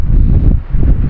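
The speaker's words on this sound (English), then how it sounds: "it's super windy where I'm at" Strong outdoor wind buffets the microphone in a loud, low rumbling roar that swells and dips over about a second.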